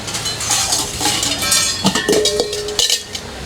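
Dishes, pots and cutlery clatter and clink together as they are handled for washing at home, with close, irregular metallic chinks and knocks and a few brighter ringing hits, and no talking.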